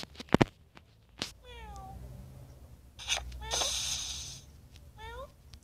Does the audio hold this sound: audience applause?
no